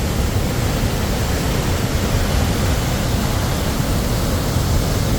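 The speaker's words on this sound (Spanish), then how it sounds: "Con qué fuerza cae el agua." Water from a waterfall along the Jasper to Banff highway in Canada plunges with great force, a loud, dense, unbroken roar filling the whole clip with no voices.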